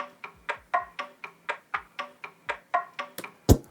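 A short, dry percussion loop from a pop pre-chorus: about fourteen evenly spaced tapping, knocking hits repeat in a steady rhythm, with a louder, fuller accent hit near the end, played alone with no voices.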